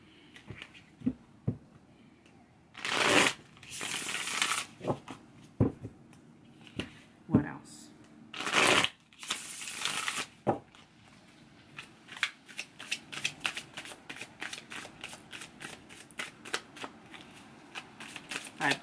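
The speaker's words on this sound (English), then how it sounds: "Let's pull some more cards." Tarot-style reading cards are shuffled and handled in bursts, with riffling whooshes, quick flicks and a fast run of crisp snaps near the end, close and clear.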